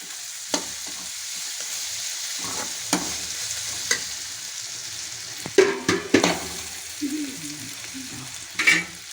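Curry leaves sautéing in a pan as tempering for paruppu adai batter, a steady close frying sizzle broken by sharp utensil clinks and scraping stirs, with a few louder clatters near the middle and end.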